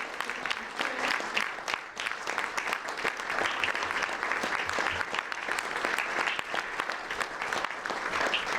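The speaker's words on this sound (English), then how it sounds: "let's give a big round of applause" A round of applause from an audience at a fireside chat on women in government, many hands clapping in a sustained, even burst at moderate loudness.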